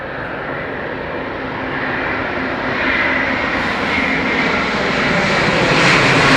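Air India Airbus A350 jet at London Heathrow, a loud sustained engine roar that builds gradually across the clip with a brighter hiss rising toward the end, no voices.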